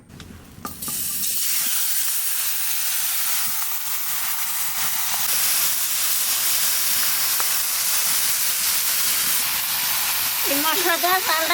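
Oiled food drops into a hot wok and at once sets off a loud, sharp sizzle that settles into a steady, hissing fry, heard close up, with a brief voice near the start and another near the end.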